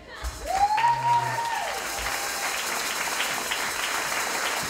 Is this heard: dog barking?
no